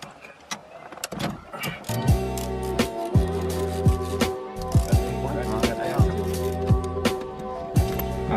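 Ratchet clicks and metallic tool sounds come from undoing the steering wheel bolts on a Honda Civic EJ2. Several close, sharp ratcheting bursts repeat irregularly over a faint background, with no talking.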